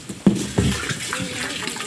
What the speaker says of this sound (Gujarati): પાણી કેવું મસ્ત આવે ઠંડુ ઠંડુ વાવ હું પાણી જ ભરતી હતી